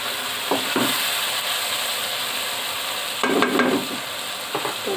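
Meat (gosht) cooking in spice paste in a pan for bhindi gosht, making a steady low sizzle with a few short bursts of stirring and scraping, close and without talk.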